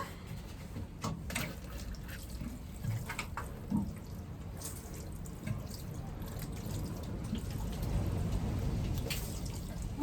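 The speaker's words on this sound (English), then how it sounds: "Give these a little water." Water is poured over small chilli seed pots, a close trickling and dripping with soft splashes that runs on steadily, growing slightly fuller toward the end.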